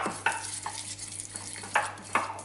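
Teaspoon of basil and a little oil stirred with a spoon, a few distinct scrapes and taps against the dish over a low steady hum, close and moderate.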